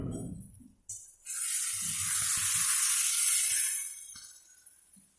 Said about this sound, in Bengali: আলু পেঁয়াজ টমেটো সব মোটামুটি ভাজা হচ্ছে